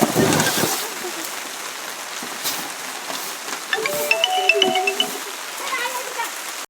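Rain falls steadily at a home in the Andaman Islands, a constant broadband patter with scattered drips and splashes, while people talk nearby over it.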